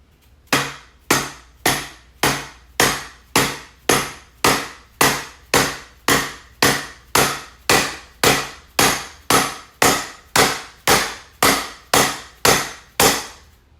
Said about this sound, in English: I take my dead blow hammer and I hit in circles, evenly seating that metal washer down